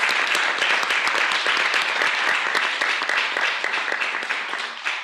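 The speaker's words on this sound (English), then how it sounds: "Can we just have one final round of applause for the two countries?" Sustained audience applause at a multi-stakeholder collaboration conference session, dense steady clapping from a large crowd that holds loud throughout and tapers slightly at the end.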